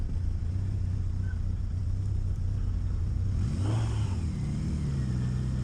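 A 2002 Kawasaki Voyager motorcycle engine hums steadily at a low rumble during a ride, with a swelling rev partway through before settling back to a smooth drone.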